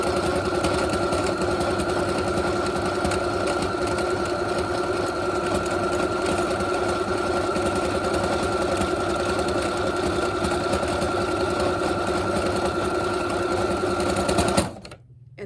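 A sewing machine runs steadily, stitching a Norwex window cloth face mask with short stitches, making a continuous rapid mechanical whir that stops abruptly at the end.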